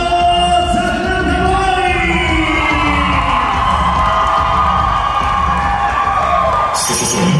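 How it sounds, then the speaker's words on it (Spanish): A large crowd at a huapango and tribal dance competition cheers, whoops and yells loudly and continuously for a dance group, a dense roar of many voices with shrill shouts. "vamos a recibir con un fuerte aplauso"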